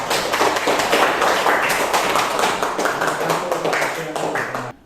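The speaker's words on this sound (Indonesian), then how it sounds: "Mari kita tepuk tangan." Group applause from a class audience in a classroom presentation session, dense and steady clapping filling the whole span at close range before cutting off at the end.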